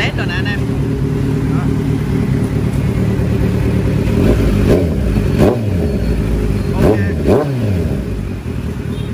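A Kawasaki Z900 motorcycle fitted with an SC aftermarket exhaust idles loudly up close, then gets several sharp throttle blips that rise and fall over the steady rumble.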